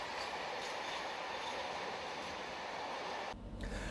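Class 66 diesel locomotive hauling empty tank wagons southbound: a continuous loud rolling rumble of wheels on rails with a steady broadband roar, briefly dipping near the end before resuming.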